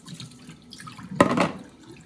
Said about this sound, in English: Just have to rinse this eggplant.